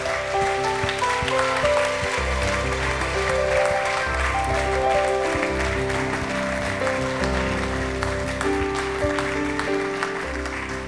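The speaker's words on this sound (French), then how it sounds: "Give the Lord a clap off. Applaudissez le Seigneur." A congregation at a church conference claps steadily to praise God over continuous loud music with sustained tones and a low bass line, filling the whole stretch without pause.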